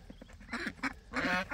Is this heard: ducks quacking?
yes